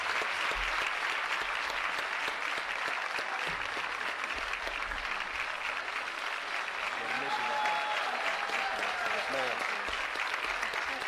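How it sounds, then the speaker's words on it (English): Sustained applause from an audience at a school district convocation, steady and dense clapping filling the room for the whole stretch, with faint voices mixed in underneath. "One more round of applause."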